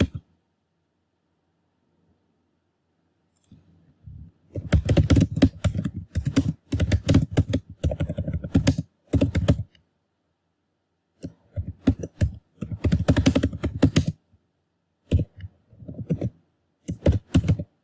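Typing on a computer keyboard while writing Java loop code, heard as bursts of close, rapid key clicks separated by pauses, with no talking.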